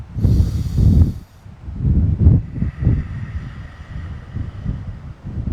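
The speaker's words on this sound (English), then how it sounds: "Only with the nose, deeper and deeper exhales." Deep, forceful exhales through the nose during a guided breathing session, several breathy bursts in an uneven rhythm, close and fairly loud, with no talking.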